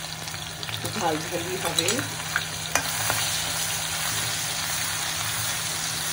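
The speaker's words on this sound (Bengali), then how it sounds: "এরপর দিচ্ছি শুকনো লঙ্কা বাটা" Dry red chili paste hitting hot oil in a pan, with a steady loud sizzle and frying hiss plus stirring scrapes, while a voice speaks briefly early on.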